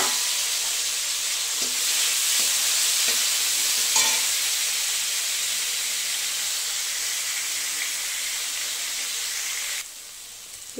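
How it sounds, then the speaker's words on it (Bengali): Onion and tomato fry in hot oil in a pan with black cumin seeds for a fish curry, giving a steady, loud sizzling hiss with occasional stirring scrapes and clinks, then cutting off near the end. "পেঁয়াজ আর টমেটোটা অনেকটাই ভাজা ভাজা হয়ে গেছে"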